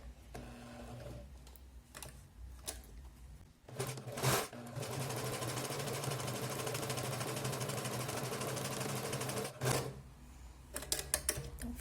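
A sewing machine stitches a cord into a fabric napkin holder in a steady, continuous whirring run of about five seconds, with shorter bursts of stitching and handling noises before and after.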